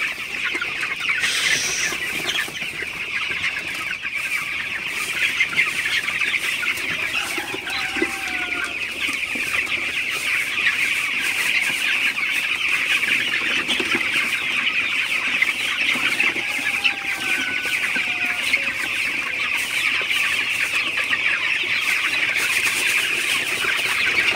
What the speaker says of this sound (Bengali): মুরগিগুলাকে আমি তারাই দিচ্ছি, আপনারা দেখতে পাচ্ছেন